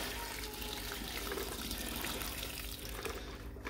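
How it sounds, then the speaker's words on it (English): Water runs steadily from a tap, rinsing hydrochloric acid out of gold recovery material taken from CPU slots, a constant splashing flow with no talking. "I can see that the water's coming off clear now."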